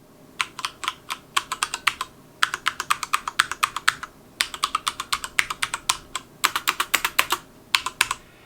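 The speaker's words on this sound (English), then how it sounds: "everyone does a sound test, as I just did" Cherry MX Red mechanical keyboard typing on a HyperX Alloy FPS Pro, up close: brisk bursts of crisp key clacks in quick runs, separated by brief pauses.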